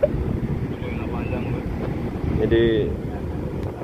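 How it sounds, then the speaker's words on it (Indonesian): Strong wind gusts rumble across the microphone at a boat harbor where ship berthing has been cancelled, a steady low roar with a brief creak or whistle partway through while someone speaks briefly. "Datang juga anginnya."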